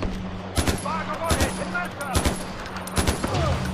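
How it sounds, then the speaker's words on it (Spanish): Gunfire in Far Cry 4 sounds as repeated bursts of shots at roughly regular intervals, loud and close, over a constant low engine-like hum and background game sounds. "Bajamos y nos llevamos a tiros con todos."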